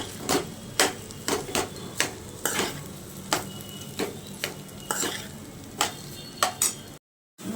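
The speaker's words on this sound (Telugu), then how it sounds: "ఇప్పుడు మనం అందులోకి రైస్ వేసుకుంటున్నామండి. రైస్ వేసుకున్నాక ఒకసారి కలుపుకుందాం." Cooked rice stirred into a pan with fried egg: a spatula scrapes and clacks against the metal pan in a dozen sharp, irregular strokes over a low sizzle, close and fairly loud, then a brief silence at the end.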